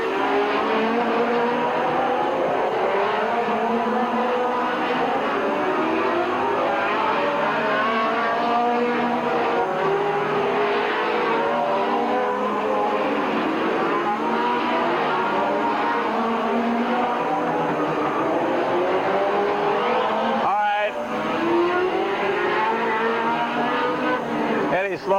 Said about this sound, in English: Some hot laps in. Get them tires back hot.